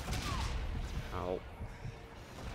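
Dense, muffled bursts of futuristic gunfire and impacts from Call of Duty Infinite Warfare rumble at moderate volume, with a short voice or electronic warble cutting through midway.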